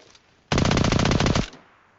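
A FAMAS rifle fires in the Metro Royale mode of a shooter game: one loud, close burst of rapid automatic shots lasting about a second, ending with a short fading tail.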